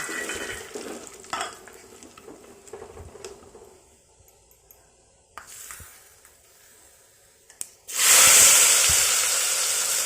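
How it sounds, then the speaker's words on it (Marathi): Cumin seeds crackle in hot oil with scattered pops and light stirring clatter. After a quieter stretch, a loud steady hiss of steam and sizzling bursts in near the end, close by and without talk. "जिरे मुरी टाकून घ्यायची छान अशी कडकडू द्यायची"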